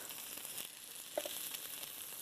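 Chicken breast pieces on skewers sizzle steadily on a George Foreman grill, a constant fine crackle with a couple of brief louder pops partway through, heard close up with no talking.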